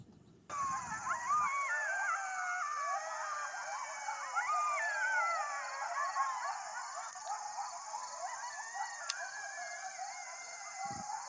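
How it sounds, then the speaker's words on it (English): A pack of coyotes howls and yips together outdoors, a long chorus of wavering, overlapping cries and high yelps, moderately distant and sustained for several seconds. "that's more than one coyote"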